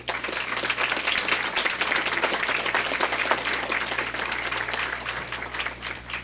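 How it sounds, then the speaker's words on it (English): Sustained audience applause at a school board of education meeting honoring students and LEGO League coaches, dense steady clapping from a full room at moderate loudness over a low constant hum, continuing without a break. "Let's give these remarkable students and coaches one more well-deserved round of applause."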